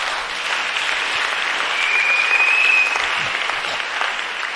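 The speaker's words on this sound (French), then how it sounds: "Acclame très fort Jésus." A church congregation at a women's convention applauds and cheers loudly for Jesus, a dense, sustained roar of clapping with a few shouts and a brief whistle, close and continuous.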